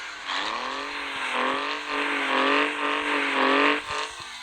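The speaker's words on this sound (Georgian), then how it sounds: "მოვსმინოთ AM8-ს ხმას." A BMW M8 engine in the Car Parking mobile driving game revs steadily, its harmonics rising and falling across several pulls, loud and close with no talk over it.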